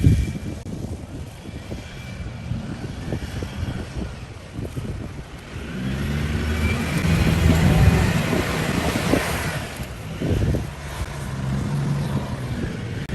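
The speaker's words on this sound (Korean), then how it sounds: "엔진 찢어지는 소리 난다." A Ford F-150 Raptor's heavy engine roars and strains off-road, revving up and down under load, loud and close, with rumbling mechanical noise throughout.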